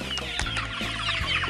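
Chickens clucking in a free-range henhouse on an egg farm, a steady chorus of overlapping close clucks and short calls from several hens throughout.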